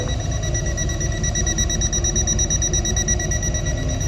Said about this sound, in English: So we have the audible alarm at 75 decibels